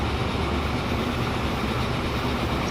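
A train runs in the video game Transport Fever 2, giving a steady, moderate low rumble throughout with no talking.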